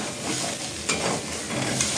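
Home-grown rice frying in a pan for a winter-vegetable khichuri, a soft sizzle with scraping stirring strokes and a couple of light metallic clinks, close and fairly quiet.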